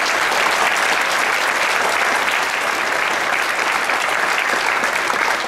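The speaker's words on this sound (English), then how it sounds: "Give them a round of applause, too." An audience applauds steadily and loudly in a high school auditorium after a choral concert. The sustained clapping fills the whole stretch at even strength.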